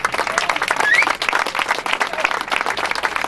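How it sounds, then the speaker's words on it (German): Crowd applause at an outdoor rally in Hamburg, continuous clapping from many hands at moderate distance. "Das ist auch ein Applaus für uns alle hier selber"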